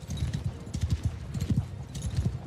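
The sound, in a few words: horse hooves clip-clopping in Warhammer mod video game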